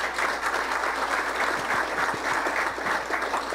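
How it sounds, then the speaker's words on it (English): A crowd at a political campaign kickoff event gives sustained, loud applause, a continuous dense wash of clapping with a few sharper claps standing out. "He deserves your applause, too."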